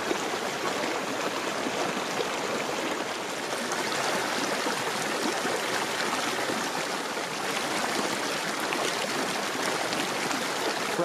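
A mountain stream rushes just below a waterfall in Fravert Basin on the Four Pass Loop near Aspen, Colorado, a steady, broad, close hiss of flowing water with no voices.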